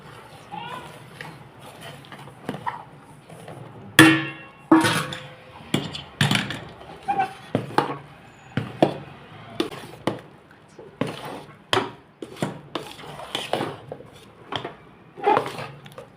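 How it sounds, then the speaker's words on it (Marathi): Flour is stirred into a pot of hot liquid with the stove off, producing a series of loud, irregular knocks and scrapes of a utensil against the pot, each followed by a short fade. "आता ह्याच्यात मी पीठ घालून घेते पीठ घालून असं एकसारखं हलवत राहायचं"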